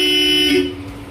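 A single loud motorcycle horn blast from a Yamaha Aerox, steady and tonal, sounding for about half a second before cutting off and leaving faint background noise.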